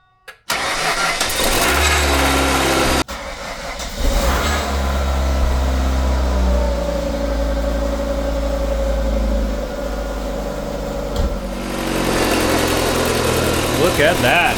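A Ford Focus engine cranks and fires right up, then settles into a steady, close idle with a faint voice now and then.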